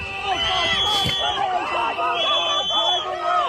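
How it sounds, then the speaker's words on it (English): Crowd of people gathered at a police incident where a woman drove at officers in her car, a dense babble of overlapping voices and shouts filling the scene, with a single voice rising above the noise. "do you hear the people in the crowd?"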